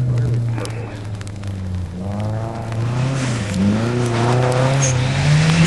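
A car engine revs and strains in a plowed, salted snowy parking lot, its pitch rising and falling in repeated climbs, loud and close, while people talk over it.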